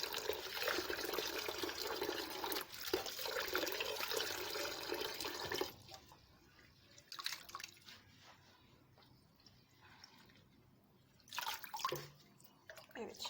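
Water runs loudly from a tap for several seconds while herbs are rinsed in vinegar water, then cuts off, leaving scattered drips, splashes and handling sounds with brief quiet stretches.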